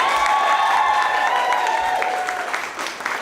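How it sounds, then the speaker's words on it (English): A live audience at a Lush event claps and cheers loudly, dense applause holding steady and then easing slightly toward the end. "Can we have one more cheer for Poems"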